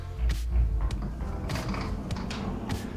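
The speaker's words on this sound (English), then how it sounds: "And here, a hidden door." A hidden door in a house in Gran Canaria, Spain, creaks as it is opened, with a low, drawn-out grinding creak and a few small knocks from the mechanism. No one speaks during it.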